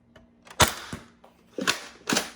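An Adventure Force Conquest Pro blaster fires through a chronograph, giving four sharp, quick snapping shots at uneven intervals, close and moderately loud.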